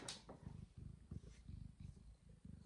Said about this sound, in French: Tu ronronnes.